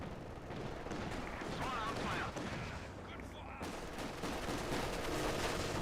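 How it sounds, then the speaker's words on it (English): Machine gun fire in the Company of Heroes 2 strategy game, with multiple MGs raking infantry: dense, continuous rattling bursts with heavy battle noise layered over it. "MG fire lighting up the infantry section"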